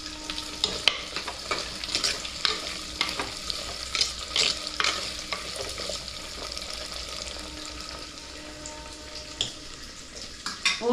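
Garlic and onion frying in oil in a home kitchen for a Tamil garlic kuzhambu, a steady close sizzle punctuated by sharp stirring scrapes and clinks of a ladle against the pan.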